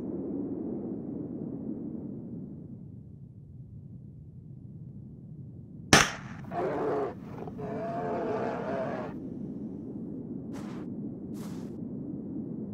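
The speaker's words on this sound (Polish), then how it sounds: "Pierwszy strzał i celne trafienie." A tranquilizer dart rifle fires a single sharp shot during a bear hunt in the video game Alpha Polaris, a loud crack followed by a brief whoosh and a few faint clicks over a low ambient rumble.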